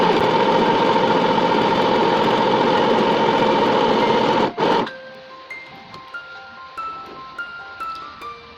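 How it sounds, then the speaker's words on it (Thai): A mini sewing machine stitches fabric to gather a ruffle without a gathering foot, its loud steady motor whir running for several seconds before cutting off abruptly, followed by quieter scattered clicks and faint sounds. "เริ่มเย็บได้เลย นำผ้าสอดเข้าไปใต้ตีนผี แล้วก็วางตีนผีลง เย็บเลย"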